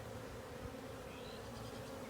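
Honeybees hum in a dense, continuous drone throughout an open hive inspection, steady and close with no pauses and no talking.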